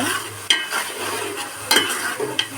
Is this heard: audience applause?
no